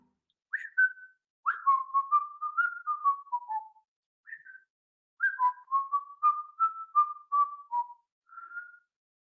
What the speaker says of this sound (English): Okay, now we just whistle.